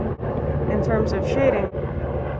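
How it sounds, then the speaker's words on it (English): A helicopter passes overhead during an online art class, its low, steady rumble running continuously beneath a person's ongoing talk. "Oh, that's a helicopter."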